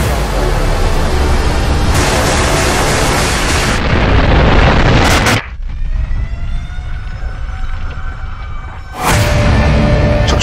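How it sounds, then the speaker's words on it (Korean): In a disaster film trailer, Mount Baekdu's volcanic eruption explodes with a massive, roaring blast and sustained deep rumble, broken by abrupt edits and a brief dip before the roar returns. "백두산 화산이 폭발했습니다"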